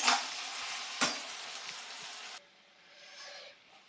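Onions frying in a pan until brown for a fish curry with lemon leaves: a close, dense sizzle with a couple of stirring knocks, then the sizzle drops to a quieter hiss for the last seconds.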